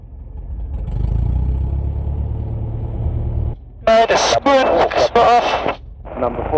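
A Pitts S-2A aerobatic biplane taxis with a steady low engine drone heard through a cockpit headset. The drone cuts out partway, and then clipped radio-style speech follows.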